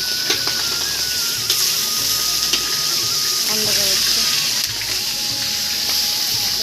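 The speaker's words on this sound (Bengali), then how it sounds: "মাছের মাথা ভাজা হচ্ছে" Fish heads frying in a home kitchen give off a steady broadband sizzle with occasional crackles and clinks, with background voices audible in the room.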